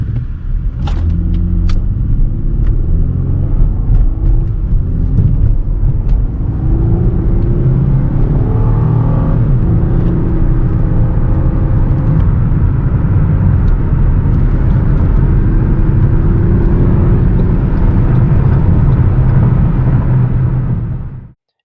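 A 2013 Ford Taurus SHO with a twin-turbo engine accelerates hard, its loud steady engine roar and rumble rising through gears for about twenty seconds before cutting off.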